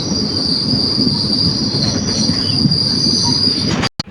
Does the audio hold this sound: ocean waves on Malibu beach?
no